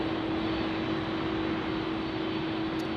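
Aircraft engines roaring steadily at Phoenix Sky Harbor Airport, a continuous loud broadband drone with a sustained tonal hum, no voices.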